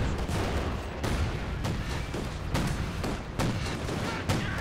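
Artillery shells and gunfire boom across a Company of Heroes 2 battle in a 2v2 match, with heavy tank cannon and repeated dense blasts and volleys rolling continuously, loud and close, with no talk.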